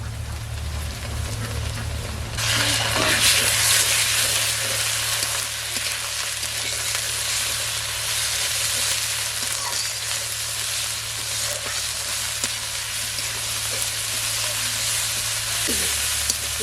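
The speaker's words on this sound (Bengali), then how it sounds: "জল দেওয়ার আগে কিছুক্ষণ মশলাটা ভেজে নেব। মশলা কষানোর জন্য" Ground spice paste of ginger, garlic and cumin frying in a pan with browned onions for a duck curry, a loud, dense sizzle that swells after a couple of seconds and holds steady, with occasional stirring.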